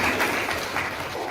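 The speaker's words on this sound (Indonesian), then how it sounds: "Tepuk tangan." Applause during a history lesson session, steady dense clapping at moderate level filling the short moment without voices.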